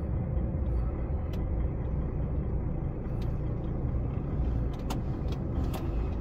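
Car rolling slowly over a garage inspection pit with a trailer in cold weather, a steady close engine rumble with a few faint clicks and squeaks near the end.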